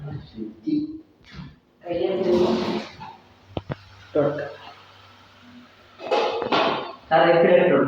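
A metal lid is set onto a cooking pot while making stuffed kunthal, giving a couple of quick bright clinks in the middle of a Malayalam-speaking cook's running talk.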